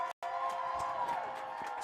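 A high school football crowd in a stadium swelling in noise, a sustained roar with scattered shouts and cheers filling the moment, briefly cut near the start.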